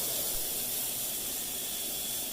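Beef for chimichurri searing on a small home grill, producing a steady, even hiss of sizzling fat that holds at a moderate level throughout with no voices.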